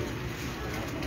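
Soft, low pigeon cooing, close by and continuous over a brief stretch, with a faint murmur of background noise.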